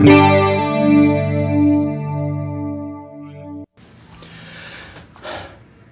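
A held chord shimmers through a Roland Dimension D rack unit's tri-stereo chorus and detune effect, loud and close for about three seconds before cutting off, followed by faint breathy noise and handling sounds.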